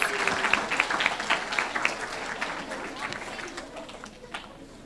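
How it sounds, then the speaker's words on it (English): Applause from a school audience at a fifth grade awards ceremony honoring student award winners, a scattered run of claps lasting several seconds with a faint murmur of voices underneath. "Let's give them a round of applause."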